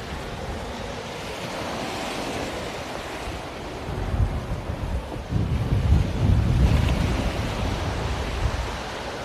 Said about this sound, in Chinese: 看海浪